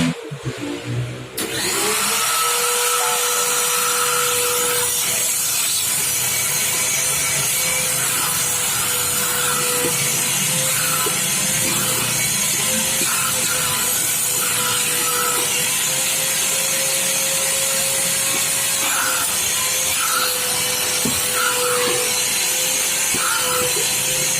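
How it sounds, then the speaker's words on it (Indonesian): A wet vacuum sucks water out of a washed motorcycle helmet, starting abruptly and then holding a loud, steady whining drone with gurgling, rubbing and scraping for the rest of the clip. "kita vakum ya, kita sedot dulu"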